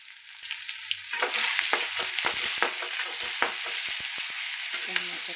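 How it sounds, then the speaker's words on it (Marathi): Green chili paste frying in hot oil, a loud continuous sizzle with irregular crackles and pops, stirred close by, no talk. "आणि लगेच आपल्याला हिरवी मिरचीचं आहे ना आपल्याला वाटलेलं ते लगेच टाकायचं, कारण ते भाजलं पाहिजे ना"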